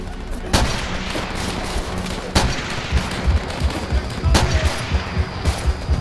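Sustained gunfire in the Call of Duty: World at War video game, dense bursts of automatic rifle and machine-gun fire with several sharp louder shots standing out, loud and continuous throughout with faint voices in the mix.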